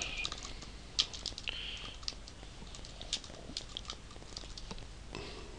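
Typing on a computer keyboard while entering a Git commit message: quiet, steady key clicks in uneven bursts, close and alone.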